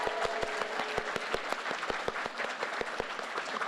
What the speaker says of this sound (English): Everybody, big round of applause for Anna Prosser.